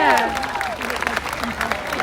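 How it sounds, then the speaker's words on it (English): Audience at a seal show at Taronga Zoo in Sydney claps for Bondi the seal, a scattered round of applause under a presenter's voice. "You can give him a clap if you like."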